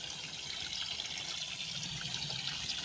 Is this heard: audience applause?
no